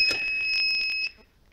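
Low coolant alarm on a Mazda Bongo gives a steady two-tone electronic buzz for about a second as the ignition is switched on, then cuts off, with faint clicks under it.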